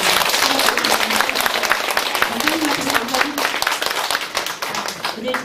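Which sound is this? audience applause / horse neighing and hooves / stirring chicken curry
audience applause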